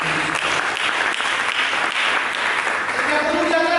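A church congregation claps together in warm, dense applause that holds steady from start to finish, filling the hall with continuous bright patter.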